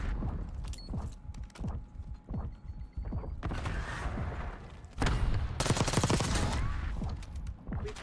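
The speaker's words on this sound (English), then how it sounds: "Hostile sentry turret active." A hostile sentry turret firing in a video game, close bursts of rapid shots breaking into a dense sustained rattle, over steady game ambience with a few scattered impacts.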